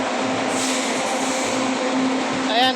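An LRT Line 2 light rail train at Araneta Center-Cubao rumbles steadily along with a sustained metallic whine and hum, close by, the noise continuous throughout.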